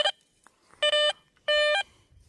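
Two steady electronic beeps from a Garrett Vortex VX9 metal detector passing over a can sound a moment apart, each lasting about a third of a second, with a faint click beforehand and quiet in between.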